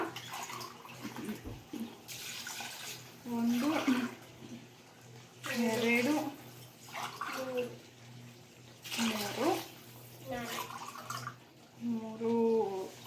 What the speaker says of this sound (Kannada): ಪೂರ್ತಿ 9 ಗ್ಲಾಸ್ ನೀರು ಹಾಕಾಗಿದೆ.